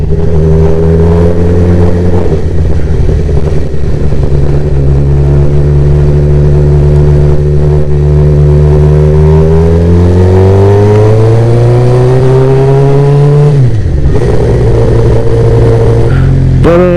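A Suzuki GSX-R 600 sport motorcycle rides past loud and close, its engine pitch climbing steadily through a long rev, then dropping sharply before rising again.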